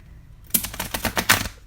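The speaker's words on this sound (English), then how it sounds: "Rifle shuffle works the best with these, I think." After a brief quiet, a rapid flurry of crisp clicks and flutters rattles close by for about a second, a deck of cards being riffle shuffled.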